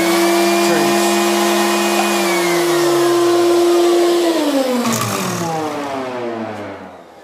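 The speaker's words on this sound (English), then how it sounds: "So see, it turns the sander and the shop vac on." A woodworking sander and shop vac kick on together from a foot switch, a loud steady motor whine with a high tonal hum that holds, then drops in pitch and fades as they spin down.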